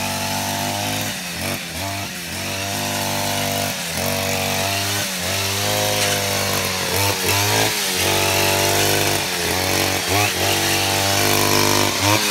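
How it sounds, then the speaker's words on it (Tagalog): A grass cutter runs on a cucumber farm, its small engine droning loud and steady throughout with a few brief dips and surges as the cut changes. "nag-aano siya, nag-grass cutter."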